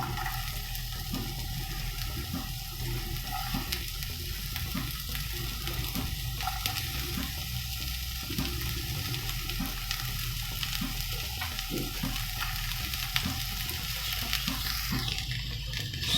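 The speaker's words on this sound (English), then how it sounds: "So we will just saute the onions till they are translucent" Finely chopped onion sizzles steadily in a teaspoon of oil in a pan, a constant close frying hiss with light scraping from stirring and no voices.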